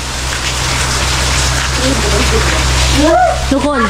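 Rain falls steadily outdoors in rural Thailand as a dense, even hiss with a low hum beneath, while a voice speaks briefly near the end.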